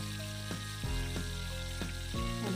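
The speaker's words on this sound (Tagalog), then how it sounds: "Mas makakatulong ang paggigisa dito sa sibot para mas maging malasa ito." Onions and garlic being sautéed in a pan before beef brisket goes in for beef pares; a steady close sizzle runs throughout, with a few brief stirring scrapes and clatters spaced across it.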